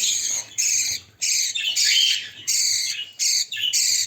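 A pet bird chirps while the father bird feeds its chick, giving bright, close, repeated bursts of tweets and squawky calls with short gaps between them.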